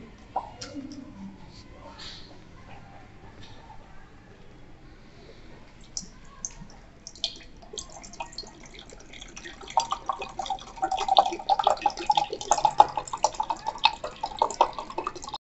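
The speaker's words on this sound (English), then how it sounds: "Now I will pour water in it." Water poured into a glass jar with a burning candle inside, set up as a school science exhibition demonstration; a soft trickle and drip builds and grows louder over the last few seconds, alone without talk.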